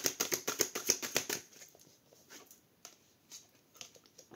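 Tarot cards riffle-shuffled close up in a quick run of crisp, snappy flutters, then a softer, scattered patter of single cards being flicked and laid down.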